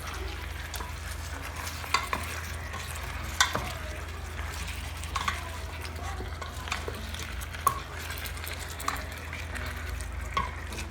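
Chicken curry seasoned with black pepper is stirred in a pan, a low continuous simmering sizzle punctuated by occasional utensil clicks and scrapes, near and moderately quiet with no talk.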